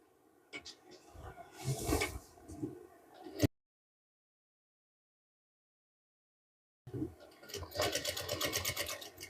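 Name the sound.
sewing machine stitching a kurta placket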